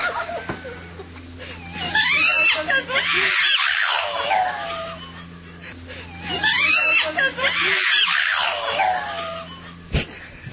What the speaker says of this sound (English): Shrieking monkeys.